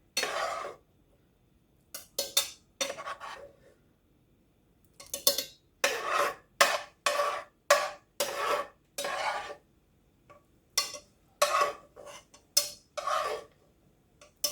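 A spatula scrapes and pushes ground beef around a pan in quick repeated strokes, bursts of scraping separated by short pauses, close and clear with no talk.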